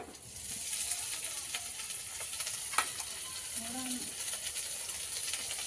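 Turmeric-coated, pre-boiled prawns frying in oil give a steady, moderate sizzle with a few faint scrapes and clicks and a brief distant voice in the background.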